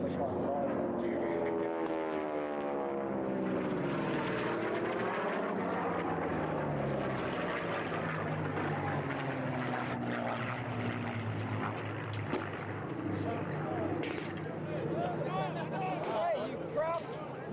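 Propeller warbird aircraft fly past at the Warbirds Over Wanaka 2004 airshow, a steady droning engine tone with a sweeping pitch change as they pass, heard under people talking nearby.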